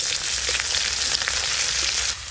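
Chopped onion sizzles and fries in hot mustard oil with whole spices, a steady close crackling hiss with small spatters throughout and no voices.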